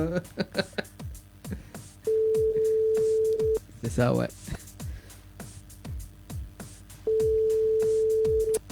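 A telephone line tone sounds while a caller's number is dialed for a live Télé Kréol broadcast: two long, steady, loud tones separated by clicks, with people talking between them.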